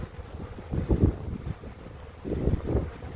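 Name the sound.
wind blowing outdoors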